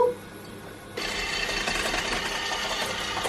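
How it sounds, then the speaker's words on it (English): Electric whisk beating eggs with orange zest for gluten-, lactose- and yeast-free Jaffa cake sponge, starting after a second of quiet and then running as a steady, close, continuous whir. "I'm now just going to whisk this."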